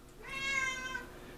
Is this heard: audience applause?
no